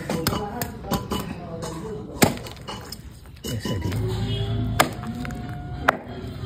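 Giriraj chicken meat cooked over a fire is chopped close by, with sharp, irregular knife strikes and clinks at a few points while voices are heard in the background.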